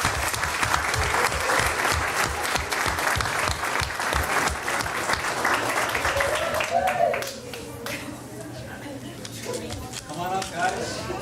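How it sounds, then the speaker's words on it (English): A crowd at a school district governing board meeting applauds steadily for several seconds, dense clapping that thins slightly toward the end, with voices talking over it. "round of applause"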